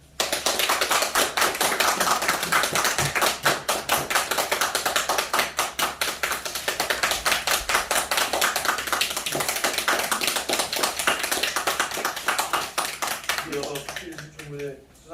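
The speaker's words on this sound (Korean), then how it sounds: "다시 한번 큰 박수 부탁드리겠습니다" Award ceremony audience at the 2022 Jeju Ilbo spring literary contest claps steadily and densely for about fourteen seconds, loud and sustained throughout before tapering off at the very end.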